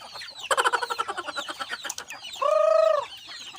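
Chickens cluck in a quick run of close, rhythmic clucks, followed by one longer drawn-out call.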